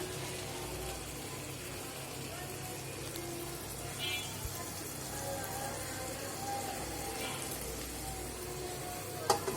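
Potato, eggplant and dried fish with spices sauté in a pan, giving a steady, fairly quiet broadband sizzle that runs the whole time, with a few faint clinks near the end.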